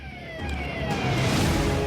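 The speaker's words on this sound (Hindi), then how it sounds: "सायरन की आवाज गूंज रही है।" Police-style sirens wail from a convoy of vehicles moving along a road in Meerut, India, their sweeping tones loud and close over a dense rumble of traffic.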